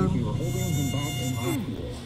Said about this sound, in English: all these damn mosquitoes